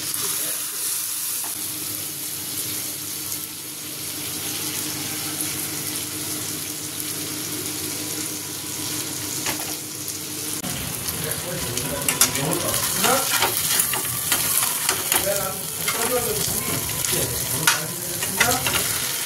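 Chicken goes into butter in an already hot pan. A soft, steady hiss builds into a louder, busier sizzle with bubbling crackle and scraping as the pieces settle and cook, close by, with no talking.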